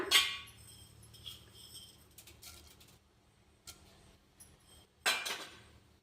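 Mustard seeds and cumin spluttering in hot tempering oil for an onion and fenugreek-leaf chutney. Bright crackling pops come in three short bursts, the first and last strongest, between quiet stretches. Close by, with no voice.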